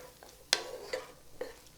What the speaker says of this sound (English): So let's stir this around and see how this is going